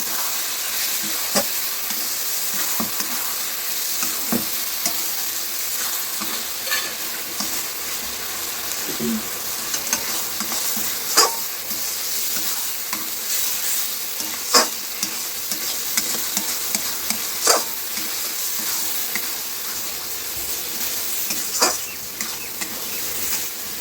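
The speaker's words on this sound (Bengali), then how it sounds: "মাটনটা দিয়ে দিয়েছি, এবার কষে নেবো" Mutton stir-fried with spices in a pot, a constant loud sizzle punctuated by repeated sharp scrapes and taps of a spatula, close up and steady for a long stretch.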